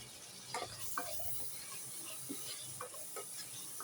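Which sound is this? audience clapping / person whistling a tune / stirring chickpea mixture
stirring chickpea mixture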